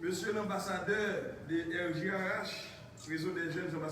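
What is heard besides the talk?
No distinct noise like a dog, phone or traffic.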